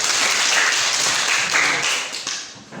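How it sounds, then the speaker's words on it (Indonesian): A class audience claps together, a bright dense burst of hands that holds steady and then thins out toward the end. "Tepuk buat kita."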